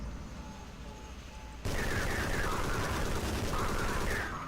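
Explosions and rapid gunfire in the Half-Life 2 video game, where zombies emerge amid the fighting: a quieter lead-in, then an abrupt, loud, sustained barrage of overlapping shots and blasts that holds steady throughout.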